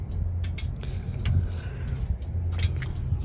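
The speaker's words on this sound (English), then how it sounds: "Got you some clips of the sound of the car" A 1500hp Ford Mustang engine idles with a low, steady rumble up close, heard from outside the car, accompanied by a few light clicks and rattles.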